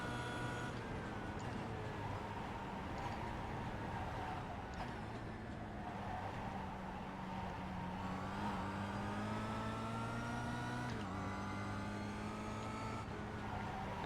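A Kia Optima race car in iRacing laps Suzuka with a steady droning engine note that climbs in pitch, drops at gear changes and climbs again, loud and continuous with no talking.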